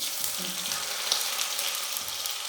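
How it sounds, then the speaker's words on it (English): Onion frying in sesame oil with crackled mustard seeds for a masala dosa, a dense continuous close sizzle with faint pops and crackles throughout, no voices. "So now that this is crackled, I'll add the onion."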